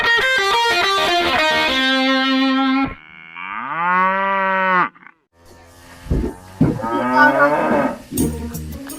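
A cow gives long, loud mooing calls up close, one sustained low bellow after another with harmonic bleats, partly distorted, followed by rougher cattle sounds and noise.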